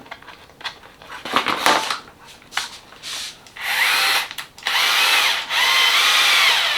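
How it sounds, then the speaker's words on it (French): A cordless power screwdriver set to reverse whirs in several bursts, starting with short spins and rattles, then running in long, loud, steady stretches. "j'avais la visseuse sur dévisser"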